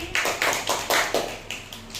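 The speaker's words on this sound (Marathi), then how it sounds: "टाळ्या वाजवा राधिकासाठी" A class claps for a student named Radhika during a Marathi-medium English lesson, with a short run of quick, close, evenly spaced claps lasting about two seconds.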